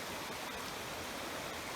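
A river rushing through a cave gives a steady, dense roar of flowing water, loud and continuous for a brief moment, with no voices.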